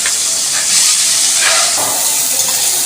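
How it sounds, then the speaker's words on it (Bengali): Chopped onions frying in a little hot oil, a steady loud sizzle and hiss that stays close and continuous throughout. "এই তেলের মধ্যে পেঁয়াজ কুচি, পেঁয়াজগুলি লাল লাল করে ভেজে নেব।"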